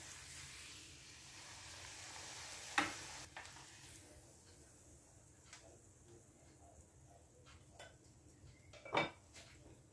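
A piece of roti frying in very hot, smoking oil in a pan while making carrot and garlic pickle, a soft continuous sizzle broken by a couple of sharp metallic clinks of utensils, no speech.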